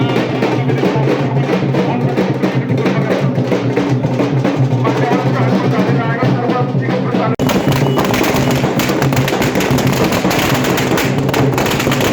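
Loud, dense crackling bursts in rapid succession, firecrackers going off at a public welcome with drums, with a sharp shift midway as the barrage intensifies.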